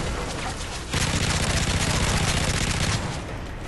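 Dense automatic gunfire in Call of Duty Modern Warfare 3 rattles in a rapid, continuous stream of loud, close shots, swelling after a brief lead-in and easing off near the end.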